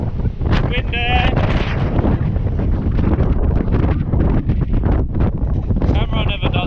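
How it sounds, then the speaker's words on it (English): Strong wind buffets the microphone with a constant loud rumble, and a voice speaks briefly under the roar. "How windy it really is"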